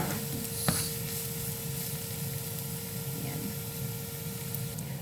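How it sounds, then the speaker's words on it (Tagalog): Chopped onions frying in a pan while being stirred give a faint, continuous sizzle, with a single clink of the utensil early on and a steady low background hum. "Mix lang ng mix para hindi magasunog yung sibuyas natin"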